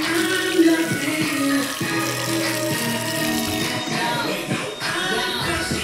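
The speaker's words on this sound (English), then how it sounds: "Wash my hands." Running tap water splashes steadily into a sink as hands are washed under it, a close continuous wash of water with small shifting rattles and no voices.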